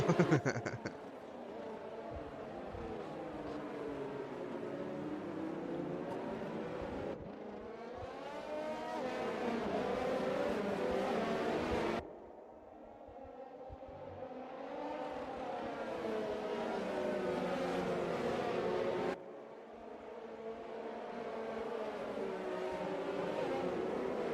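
F1 2020 race cars lapping the Vietnam circuit in an online league race as the safety car comes in, steady engine whine with shifting pitch and gear changes, moderately loud and continuous with no talk.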